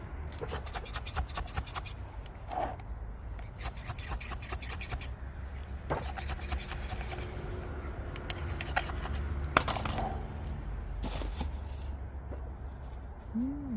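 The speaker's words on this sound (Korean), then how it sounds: "화분 겉으로 수저를 넣어서 속쏘기를 하고요." A spoon scraping and pushing potting soil down into a flower pot during repotting, giving repeated close gritty rubs and rasps with occasional light knocks against the pot.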